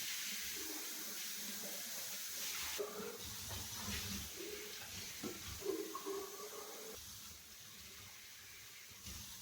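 In a home kitchen, tap water runs and splashes while bottles are rinsed, a steady hissing flow with shifting splashes and a few knocks of the bottles, fairly close.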